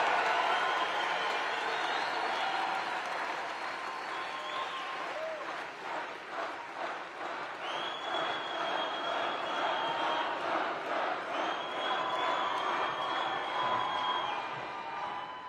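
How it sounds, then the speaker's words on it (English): A large, energetic crowd at an indoor political rally applauds and cheers steadily, with clapping and shouts sustained throughout at a roughly even level. "a very energetic crowd."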